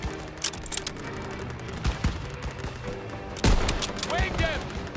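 Battlefield gunfire from the Call of Duty WWII game, with scattered shots and bursts over a constant combat din, including a louder burst near the end, under faint background voices.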